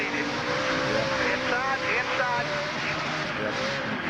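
A race truck engine at the 2004 O'Reilly 200 roars steadily and revs, its pitch rising and falling under loud track noise, with a commentator talking over it.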